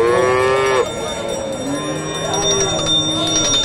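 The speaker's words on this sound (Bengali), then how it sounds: "এটা গাভী।" A Holstein Friesian cow at a busy cattle market in Hasokhali, Bogura, gives a loud, close moo at the start, followed by fainter lowing and market bustle.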